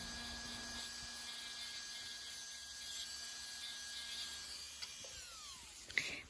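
An electric nail file drill whines at a steady high pitch while filing nails during a Russian manicure, the tone shifting briefly near the end with a small click.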